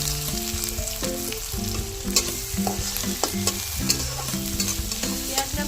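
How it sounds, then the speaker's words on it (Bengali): Chopped onions fry in a pan for dal makhani, a steady sizzle broken by occasional stirring scrapes, with soft melodic music running underneath throughout. "এবার দিয়ে দেবো পেঁয়াজ।"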